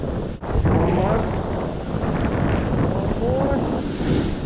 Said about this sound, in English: Getting pretty windy too. Those are a couple big waves there.